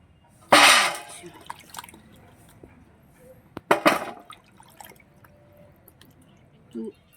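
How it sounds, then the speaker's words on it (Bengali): Mangoes being washed in a basin of water before pickling: two bursts of sloshing and splashing with scattered drips in between, close and fairly loud, plus a small knock at the end. "দেখুন কী সুন্দর করে আমি আমগুলোকে ভালো করে ধুয়ে নিচ্ছি"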